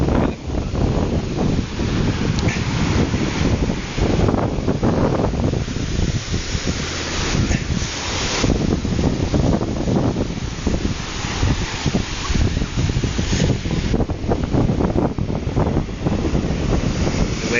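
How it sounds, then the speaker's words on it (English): Ocean surf rolls in on a shore under steady wind buffeting the microphone, a loud, continuous wash of breaking waves with surges and no voices. "The waves are coming in from the south-southwest"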